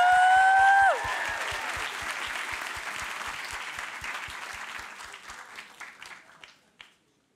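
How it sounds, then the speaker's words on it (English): A live audience at a SoapboxNYC 2023 main-stage speaker event claps loudly and steadily, with a brief sustained tone at the start and a low rhythmic beat underneath. The applause slowly thins and stops after about seven seconds. "Let's keep that wild applause going."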